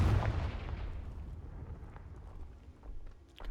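Explosion spell from the video game Hogwarts Legacy: a sharp, loud blast that decays into a long rumbling tail, followed by a smaller swell near the end.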